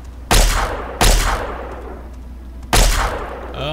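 Three sharp gunshots from Fallout 3 ring out alone, each loud and close with a short decaying tail, spaced unevenly about a second apart over steady low background hum.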